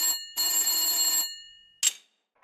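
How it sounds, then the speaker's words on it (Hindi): An old-fashioned telephone bell rings loudly in two bursts, the second long and fading, followed by a short clink and silence. "एक बार फिर फोन की घंटी बजती है।"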